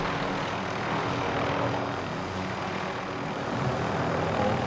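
A steady propeller airplane engine in Call of Duty: Warzone drones at an even level throughout, a continuous rumble with no voices.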